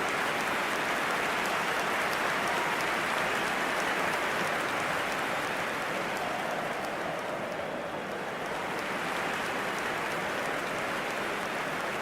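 A capacity football stadium crowd at Real Madrid vs Real Sociedad makes a dense, unbroken wash of roaring noise, loud and steady throughout with only a slight dip partway.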